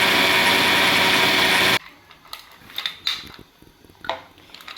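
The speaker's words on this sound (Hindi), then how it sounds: "और अब मैं इसको अच्छी तरह से करूँगी ब्लेंड" A blender roars loudly while blending bananas with sugar and cream, a harsh whirring burst of under two seconds that stops sharply, followed by light clinks and rattles of the jar and utensils.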